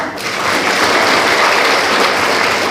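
Loud, steady applause from a seated audience welcoming a panelist at a civic forum in Busan, a dense continuous patter with no voices over it.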